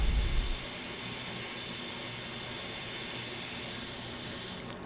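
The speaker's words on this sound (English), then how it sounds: "You push on the self-timer button, and here it comes." A steady mechanical whirring buzz from the self-timer of a Minolta SRT 201 SLR film camera runs continuously for several seconds, close and fairly quiet, with no talk.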